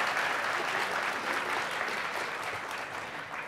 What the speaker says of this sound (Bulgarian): Сега аплодисменти за Paddy Power, EPAM и Luxoft.